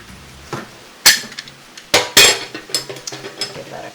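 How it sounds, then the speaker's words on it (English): Brussels sprouts with lemon juice stirred in a pan, a burst of loud metallic clanks and scrapes of a utensil against the pan, irregular and close, with a quiet sizzle underneath. "Give that a quick stir."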